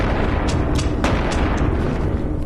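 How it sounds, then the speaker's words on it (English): Gunshots in the VR video game Animal Company: a quick run of about five sharp, fairly distant reports roughly a quarter-second apart, cutting through a steady, loud background rumble. "Oh, I hear gunshots."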